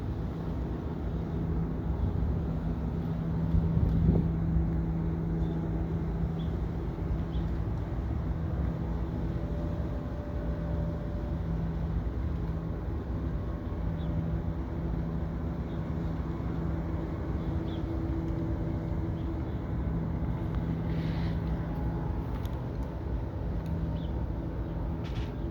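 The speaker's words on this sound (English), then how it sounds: "I'm outside, it's really windy and noisy" Steady wind blustering outdoors, a broad continuous roar with low rumble that holds at an even level throughout, with no voices.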